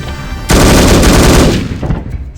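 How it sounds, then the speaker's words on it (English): An AK assault rifle fires in No One Lives Forever as a loud, dense automatic burst lasting about a second, then trails off into echoing decay. "Let's try the AK"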